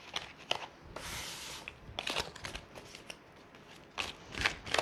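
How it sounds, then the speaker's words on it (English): A deck of cards is shuffled up close in quick riffling bursts, each a crisp fluttering rush separated by brief pauses. "we're gonna put her back in the deck and then just keep shuffling"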